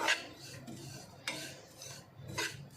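Poppy seeds and grated dry coconut being stirred while roasting in a pan, with a few scraping strokes of a spoon across the pan, close and soft, and no talking.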